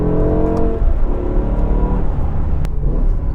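A BMW M5 E60 with its V10 engine revs loudly, with a dense, deep engine roar and rising and falling harmonic tones in a steady, close sound, and no talking.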